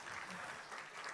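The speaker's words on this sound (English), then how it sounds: "can we have another huge round of applause" An audience at a live Future of Work and Education stage session applauds its panel. It is a brief, even wash of many hands clapping at moderate loudness.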